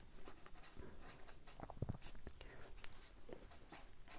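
Pen writing out a physics problem on reflection of light, a faint scratching of strokes and taps under a soft murmuring voice, close but quiet.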